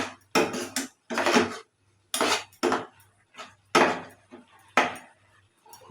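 A ladle clanks against a cooking pot in repeated bursts while stirring beetroot halwa with jaggery, sharp metallic scrapes and knocks falling in an uneven rhythm with brief pauses between them.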